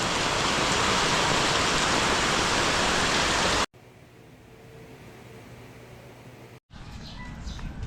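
Floodwater rushing past in a loud steady broadband roar, then a quieter stretch of softer flowing water after a sharp cut, and the louder rush returning near the end, no voices.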